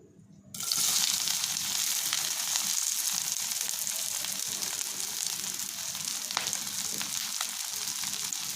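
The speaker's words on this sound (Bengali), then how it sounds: "পেঁয়াজকে নরম হওয়া পর্যন্ত একটু নাড়াচাড়া করে ভেজে দিচ্ছি" Three chopped onions hit hot mustard oil with a sudden loud sizzle that holds as a steady, close frying hiss with faint stirring.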